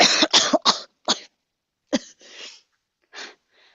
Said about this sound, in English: he starts breathing again and coughs up water